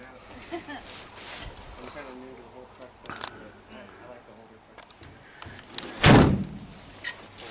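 One solid thud of a 1955 GMC Suburban pickup truck door shutting near the end, following a stretch of quiet background noise and faint movement.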